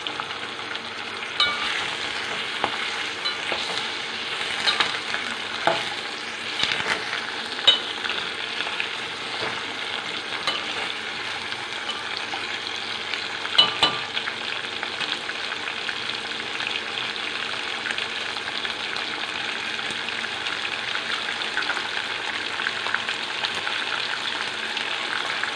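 Capsicum and pumpkin frying in a pan, a loud continuous sizzle with frequent scraping and clacking of a spoon stirring throughout, and no voices.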